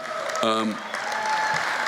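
Audience applause at a live comedy show: a steady wash of clapping from the crowd, fairly loud and continuous. A voice briefly rises above it early on.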